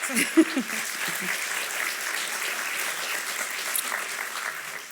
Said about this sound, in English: Maybe one more round of applause for that